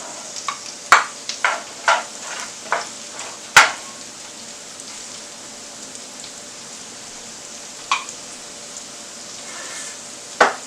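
A pot of stewing vegetables with okra simmers with a soft crackle while chopped celery drops in, giving a series of light clattering taps and scrapes with quiet stretches between them.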